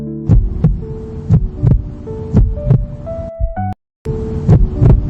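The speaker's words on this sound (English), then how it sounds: "The heartbeat came through." A heartbeat sound effect, a steady lub-dub throb pulsing about once a second under a low hum with soft sustained tones, in a romance drama scene of a man listening to a pregnant belly; a brief dropout near the end, no talk.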